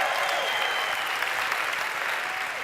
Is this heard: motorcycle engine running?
no